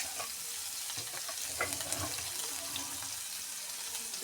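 Onion frying in oil in a pan for a Kerala home-style curry makes a soft, steady sizzle with light crackles and a few stirring clinks, fairly quiet and free of speech.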